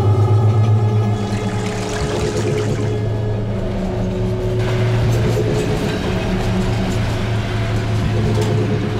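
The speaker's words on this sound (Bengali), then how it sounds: "আমি ট্রেনটা দেখতে চাই।" A train rolls past at close range in a steady, loud low rumble with faint rhythmic clatter that holds for the whole stretch, with no talk over it.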